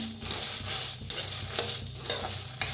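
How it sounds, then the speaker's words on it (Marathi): Flat beans dry roasting in a pan with no oil, stirred steadily: a continuous soft sizzle with scraping stir strokes repeating about every half second, close and fairly loud, with no talking. "बिन तेल बिल वापरता असंच भाजून घ्यायचं आहे"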